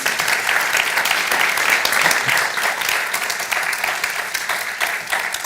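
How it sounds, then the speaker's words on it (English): Audience applause at a crime-fiction book festival event, a dense steady wash of many hands clapping throughout, fairly loud and even with no talk over it. "would you please join me in a massive round of applause?"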